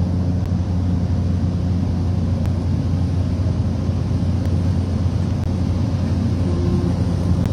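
A small plane banking into a turn in flight over Las Vegas, heard from inside the cabin as a loud, steady engine drone with wind roar that holds constant throughout.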